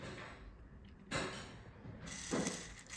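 A small geared motor of about 10 to 30 RPM running quietly, giving faint mechanical whirring with a couple of sharper clicks and handling knocks, close and soft, with no talk.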